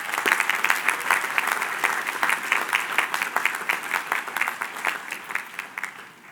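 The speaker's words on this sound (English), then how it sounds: "Let's give them a round of applause." Audience applauds a choir leader and accompanist at a livestreamed event, crisp individual claps blending into a lively, steady round that slowly tapers off.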